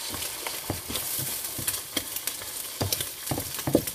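An egg frying in a pan gives a continuous close, bright sizzle, broken by frequent short scraping and tapping bursts from a utensil moving through the pan, with no voices.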